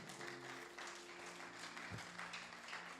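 A church congregation at a thanksgiving service applauds in continuous, dense clapping that sounds faint and distant throughout.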